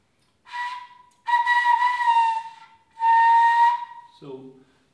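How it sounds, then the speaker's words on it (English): Using a Bb clarinet embouchure, a player blows thin airy whistle tones in three sustained breathy notes separated by short pauses, close and fairly loud, followed by a brief voiced sound at the end. "it should be a very little hole in here that makes the whistle"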